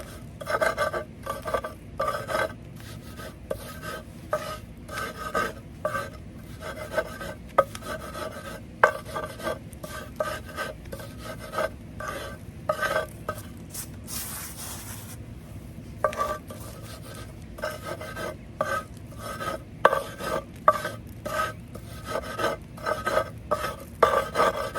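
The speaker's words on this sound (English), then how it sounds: "Improvise something here to act like a stone grinder." Eggshells are crushed in an improvised stone grinder with repeated rasping, scraping strokes in an uneven rhythm, close and fairly loud, sometimes pausing briefly, with no voices.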